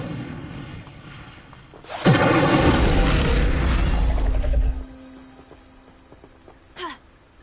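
An Incendio fire spell burst in Hogwarts Legacy: a sudden loud roaring whoosh of flame that holds for about two and a half seconds, then cuts off into quieter game ambience with a short swish afterward.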